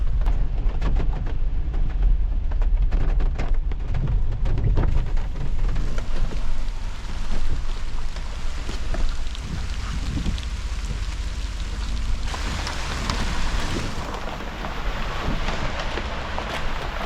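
Heavy rain pours steadily outside a tiny off-grid mountain house, a dense, loud hiss with gusty wind noise and occasional low rumbles throughout.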